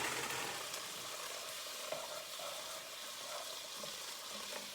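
Chickpeas hitting a hot seasoned pot in a one-pot stew, giving a steady, close crackling sizzle with faint scraping as they settle, no voices.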